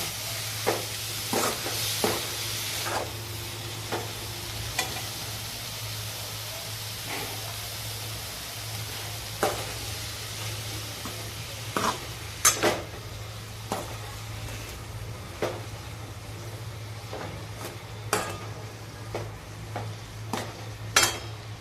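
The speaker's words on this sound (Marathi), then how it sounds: "मटकी पण चांगली परतून घेऊ" Moth beans (matki) sautéing in a pan give off a faint, steady sizzle, broken by scattered sharp clicks and scrapes of a spoon stirring against the pan.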